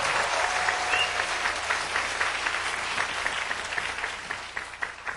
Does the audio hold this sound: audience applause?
yes